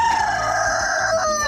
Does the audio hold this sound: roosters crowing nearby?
yes